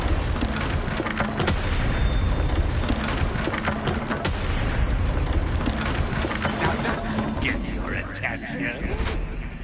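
In the game Hogwarts Legacy, a Bombarda blasting spell explodes amid continuous loud booming and rumbling, with dense layered blasts and scattered sharp cracks throughout, some voices faintly mixed in.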